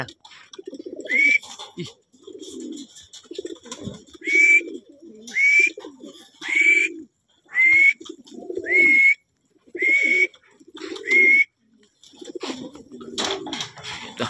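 Racing pigeons cooing close by in repeated soft, throaty coos, each with a rising whistle-like tone on top, in a steady series over low background noise.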